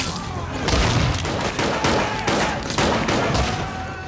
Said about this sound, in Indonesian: anak buah Jack melakukan gerakan mendadak yang otomatis membuat para polisi langsung melepaskan tembakan